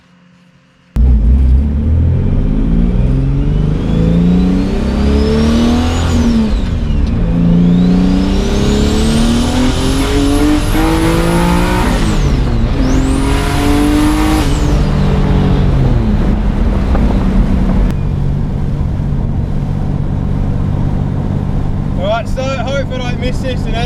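Ecojet car engine revving through an acceleration pull on a test drive: a loud, close, rising roar that sweeps up in pitch, eases off, surges again and then settles to a steady drone, with brief talk near the end.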